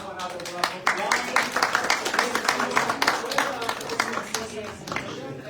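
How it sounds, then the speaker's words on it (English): Audience applause at an event on art and medicine, clapping that builds quickly and stays fairly steady, with a voice briefly heard over it. "Let's have another round of applause."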